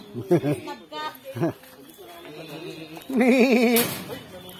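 A goat bleats in short wavering cries, with a longer, louder bleat near the end, while people talk nearby.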